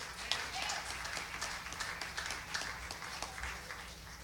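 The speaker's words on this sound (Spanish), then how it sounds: "Denle un aplauso al Señor, toda la gente común y corriente." Applause from a church congregation at an evangelical service in Rochester, New York, a steady mass of claps holding through the clip with a murmur of voices and a faint low rumble underneath.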